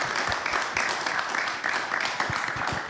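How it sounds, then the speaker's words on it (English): A crowd at an evening author talk claps for the speaker, a dense, moderately close burst of applause lasting a few seconds with no talking. "let's give him a round of applause."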